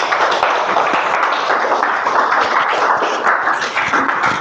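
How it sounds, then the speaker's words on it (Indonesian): A class of students claps their hands together during a lesson, a loud, dense, even patter of many hands that holds steady throughout, with no talking over it. "Kasih tepuk tangan dulu."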